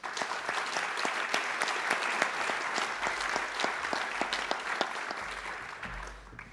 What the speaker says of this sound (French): Je vous cède très volontiers ce micro sous nos applaudissements renouvelés.